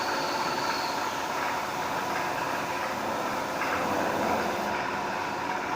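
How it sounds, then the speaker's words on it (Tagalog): A Hino V8 truck engine idles with a steady, even rumble, held at a constant moderate level with no voices over it. "Ito ang makina ang Hino B8."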